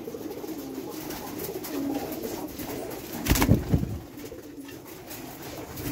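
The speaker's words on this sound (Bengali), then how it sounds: "এই যে দেখুন কত বড় পায়রা" Low, throaty pigeon cooing rolls along steadily in a home pigeon loft with clay nesting pots, swelling into a louder burst of coos midway before settling back to a quieter murmur.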